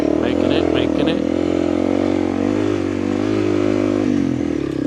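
An off-road vehicle's engine labours steadily in first gear while crawling over rocks on a desert trail, a loud continuous drone with clattering, and a voice talks over it.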